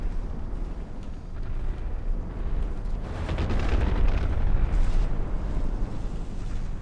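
Missile strikes and explosions pounding a battleship in the naval combat game Big Iron, a dense, continuous rumble of blasts that swells louder midway, with no talking.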